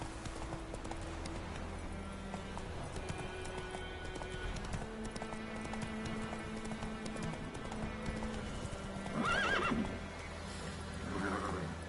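Roach, a horse in a video game, gallops with a rapid steady clip-clop of hooves, and a loud neigh breaks out near the end over faint background game sounds.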